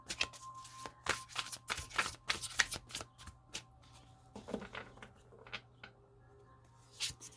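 Tarot cards are shuffled by hand at close range, a quiet run of quick papery riffles and slaps in clustered bursts with short gaps, over a faint steady hum.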